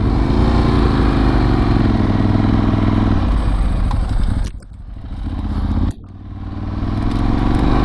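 Ducati 916 motorcycle engine running close by with a steady throbbing idle, then two brief dips in revs before settling back to a loud continuous rumble.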